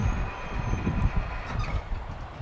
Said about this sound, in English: You don't see auto racks move that fast usually.